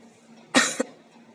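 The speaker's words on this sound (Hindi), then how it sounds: "बीच बीच में खांसी भी आ गई है" A woman gives a single short cough, close and fairly loud, with a brief second catch right after, against a quiet room.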